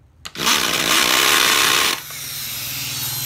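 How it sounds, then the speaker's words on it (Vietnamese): A cordless hammer drill, an older used unit, runs in hammer mode with a loud, rapid buzzing rattle for about a second and a half, then drops to a steadier, quieter whir as it keeps spinning. "mình thử búa cho mọi người xem nhé"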